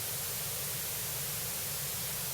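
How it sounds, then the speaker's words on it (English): Broadband white noise generated in Audacity, a steady uniform hiss spanning all pitches at constant level, then cutting off abruptly at the end. "This is white noise."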